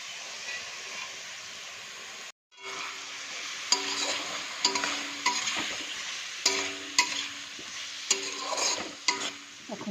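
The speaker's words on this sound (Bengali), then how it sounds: "মাছের মাথা এখন ভাজা হয়ে গেছে, পেঁয়াজটা একটু ভাজা ভাজা হয়ে গেছে। এবার দিয়ে দিচ্ছি আদা জিরে লঙ্কা বাটা।" A fish head sizzles and fries in hot oil with onion as ginger, cumin and chili paste go in, a steady hiss broken by repeated sharp scraping stirs of a spatula against the pan, with one brief silent gap near the start.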